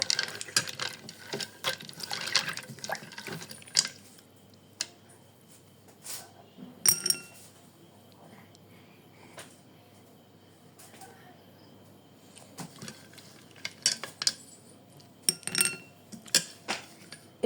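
Soaked dates being rinsed by hand in water in a home kitchen, with intermittent splashes, sloshes and light clinks of a bowl or pot, loud at first, then quieter, with sporadic bursts near the end.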